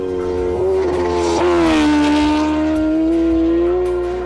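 A Kawasaki Ninja H2R racing on the Isle of Man TT course, its engine screaming loud and close at sustained high revs, pitch sliding down then climbing and holding steady through a full-throttle run.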